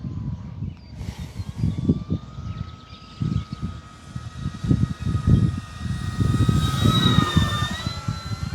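An E-flite P-47 Razorback V2 RC model warbird, 1.2 m wingspan, flies past on its maiden flight, a steady electric motor whine rising and drifting in pitch over continuous rumbling wind buffeting, with no talk.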